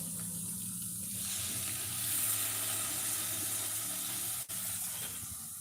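Water pours steadily into a clay pot of cooking tamarind curry with a continuous hissing splash, one brief clunk near the end.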